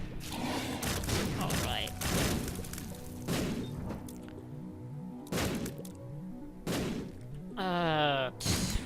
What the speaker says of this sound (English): Gonna feed Chub a bomb to keep him still while I shoot some Ipecac.